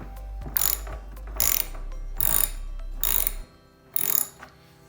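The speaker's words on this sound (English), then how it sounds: "remove this nut that's holding on the freehub body. So using a 17mm socket," A 17mm socket ratchet loosens the freehub body nut on a bicycle wheel, five short bursts of rapid clicking ratcheting spaced about a second apart, close and clear, with no talking.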